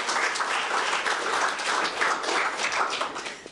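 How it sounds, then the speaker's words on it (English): An audience at a reception at the Pakistan High Commission applauds the sponsors, a steady wash of many hands clapping together for a few seconds with no talk. "So please give a round of applause to all the sponsors."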